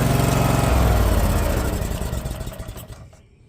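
A 23 hp Vanguard mud motor runs close by with a loud, throbbing rattle that fades and sputters out over about three seconds into quiet.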